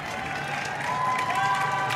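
Stadium crowd applauding at a Texas vs. SMU ACC women's soccer match, a steady wash of clapping and cheering from many spectators that holds even and fairly loud throughout.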